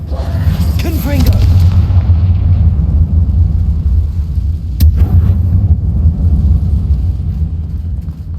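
A Confringo spell fired in Hogwarts Legacy sets off a deep, rumbling blast that rolls on as a continuous low roar, with one sharp crack partway through.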